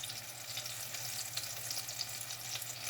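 Apple fritters heavy with apple fry in hot oil, giving a steady bright sizzle and crackle with small pops throughout, close and continuous, with no talking.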